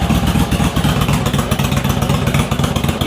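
Motorcycle engine revved up with the throttle, loud and close, a steady mid-pitched roar with rapid firing pulses and clattering mechanical noise throughout.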